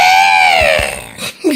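A storyteller's voice imitates an owl's screech, a single long, high, wavering cry that slides downward and fades, followed by a brief vocal sound at the end.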